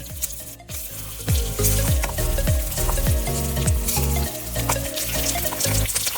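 Jalapeño pieces are set one by one into a hot pan on low flame for a North Karnataka-style recipe, a lively crackling sizzle with repeated knocks and scrapes of placing and turning over a continuous fry.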